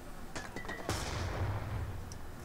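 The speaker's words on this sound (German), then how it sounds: "Ich höre Schüsse." Gunfire in the video game Call of Duty Black Ops 2, a few faint shots followed by a sharper, heavier blast with a decaying rumble, quiet and distant in the game mix.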